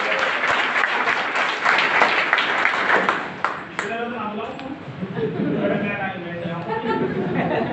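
Audience at an award celebration applauds, dense clapping from a large crowd near and loud, fading down as chatter and a speaking voice take over.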